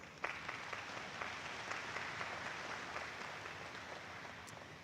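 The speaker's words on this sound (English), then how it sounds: "So please give them a round of applause" A crowd at a summer graduation ceremony claps for the organizers, a dense, continuous applause that stays fairly steady and somewhat distant throughout.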